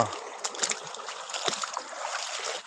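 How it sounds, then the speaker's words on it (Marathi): Faint water splashes and trickles softly over a few seconds, with small irregular sloshes of someone wading through water near custard apple trees. "बघा आवाज बघा पाण्याचा"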